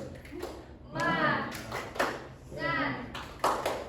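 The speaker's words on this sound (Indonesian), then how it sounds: "Tepuk semangat." A classroom of pupils performs a rhythmic 'tepuk semangat' clapping routine, two bursts of patterned hand claps and taps with children chanting along, moderately quiet in the room.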